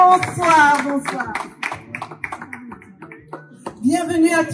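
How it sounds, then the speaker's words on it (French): Clapping from a press-conference audience welcoming Jonathan Gambela ahead of his Zénith de Paris show, mixed with voices and some cheering, rising again near the end. "Sous vos applaudissements, s'il vous plaît."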